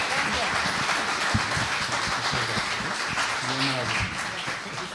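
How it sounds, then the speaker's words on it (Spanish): Audience applause at a social sciences seminar, steady broadband clapping from a room of listeners lasting the full five seconds, with some voices murmuring and talking underneath. "Un aplauso, por favor."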